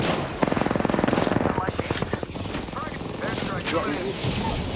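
Rapid automatic gunfire in a video game shooter bursts out loud and steady for about two seconds, then fades into a busier mix of game noise as players talk over it.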